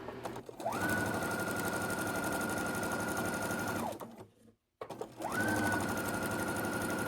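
A sewing machine stitches floral and solid quilt fabric into long rows, running steadily for about three seconds, pausing briefly, then starting up again with a rising whir.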